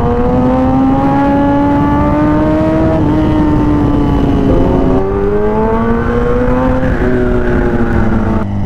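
Kawasaki ZX-10R motorcycle engine droning loudly and steadily while riding, its pitch rising and falling gently through gear changes, with no talk.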